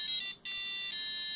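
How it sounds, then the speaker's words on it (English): A piezo buzzer gives a steady, high-pitched electronic tone that cuts out briefly once, then resumes and holds, close and clear with no other sound. "Next up is the Piezo Buzzer."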